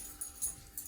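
A dog gives three brief, high, thin whimpers spaced across under a second, close by over a quiet room.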